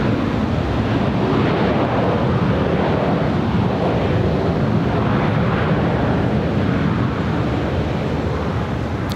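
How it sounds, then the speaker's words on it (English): A Qantas Freight Boeing 747-400 taxis at LAX toward the south-side runways, heard from a high rooftop as a steady, broad jet roar that stays constant throughout, with wind noise over the microphone. "This is the Qantas Freight 747-400 making her way over to 25s there on the south side."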